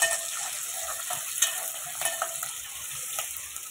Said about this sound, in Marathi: लसूण ते तडतडलेलं आहे